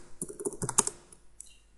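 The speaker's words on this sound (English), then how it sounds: "sorry about this, I'm just getting used to this keyboard, it's a lot different to the other one" Quick bursts of keystrokes on an unfamiliar computer keyboard, clicking in a light uneven rhythm before trailing off, faint and close with no talking.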